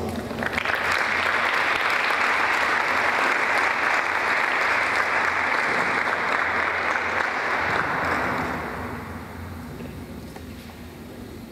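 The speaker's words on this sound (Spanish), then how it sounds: "Por favor, fuertes aplausos." Dense, sustained audience applause fills a census closing ceremony in Patzún, Guatemala, steady and loud for about eight seconds before thinning out and fading toward the end.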